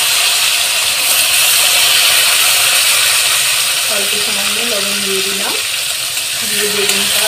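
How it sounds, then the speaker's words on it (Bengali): Eggplant fries together with a spice tempering and a little salt in a hot pan, giving a continuous loud sizzle and hiss, while a faint voice murmurs underneath in the second half. "দিয়ে বেগুনটা আর ফোড়নটা একসাথে আমি একটু ভেজে নেব।"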